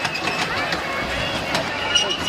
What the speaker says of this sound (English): we moved on to the train that was ferrying little passengers around a loop